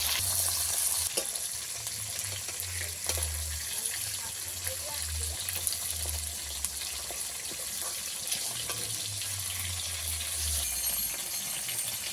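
Pieces of pond tilapia coated in salt and turmeric fry in hot oil, giving a steady, close hiss and crackle that lasts throughout, with a low rumbling hum underneath.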